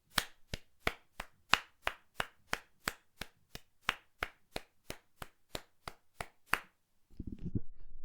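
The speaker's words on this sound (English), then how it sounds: "just clapping it." Hands clap a steady, evenly spaced quaver ostinato, about nineteen sharp, close claps in a row, followed by a brief low rumble of background noise after the clapping stops.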